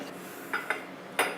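A metal pot is handled and set down on a stovetop to boil water for chai, giving a few sharp clinks and knocks close by over a steady background hiss.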